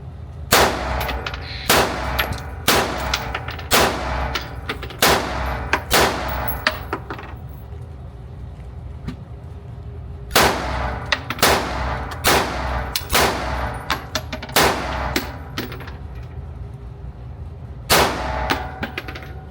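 Gunshots at a shooting range ring out in clusters of loud, sharp reports with metallic clangs, fired in bursts of several shots separated by short pauses, with no talking.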